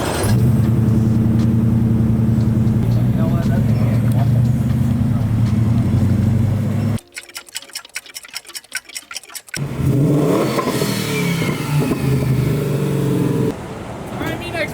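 Car engine with an aftermarket Y-pipe exhaust: a deep, steady rumble, then a rhythmic ticking idle pattern, and the engine returns with people talking nearby.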